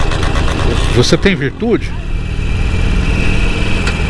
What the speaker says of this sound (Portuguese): Uma moto de quase 900 cilindradas?